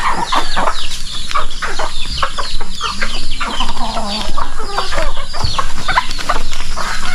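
A flock of turkeys gobbles and clucks continuously nearby on a free-range farm, many overlapping calls at once, loud and busy with scattered sharper cries.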